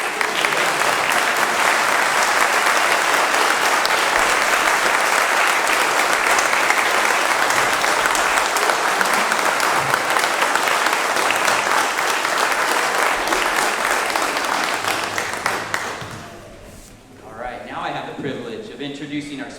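A graduation audience applauds loudly and steadily for about fifteen seconds, dense clapping that fades out, after which a voice begins speaking.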